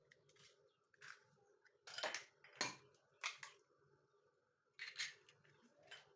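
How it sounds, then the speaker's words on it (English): Two eggs cracked one after another into a mixing bowl for an omelet, giving a handful of sharp close taps and shell snaps spread out between short pauses, with quiet kitchen background and no talking. "I will use 2 of these. Just going to crack them into this bowl."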